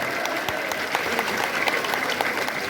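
A crowd at a BNP party workers' gathering in Turag applauds loudly and continuously, many hands clapping close together in a dense, even roar.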